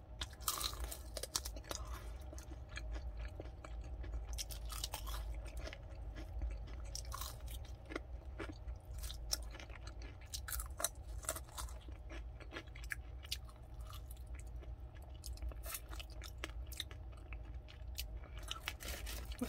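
Crunchy fried chicken from a budget chain being eaten, with steady close crisp crunching and chewing bites throughout, quiet and intimate, without talking.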